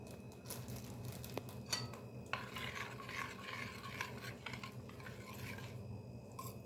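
White sesame seeds being stirred into a yogurt kömbe mixture, a steady scraping and rubbing of spoon against bowl, close and continuous with a few sharper clinks.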